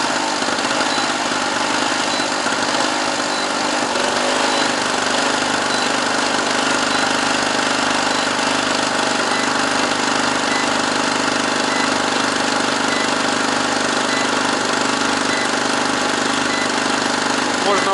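A small portable generator of about 650 watts runs under an electrical load of lit bulbs, a steady, loud mechanical engine drone with a busy rattling texture that holds evenly throughout, nearby with no talk.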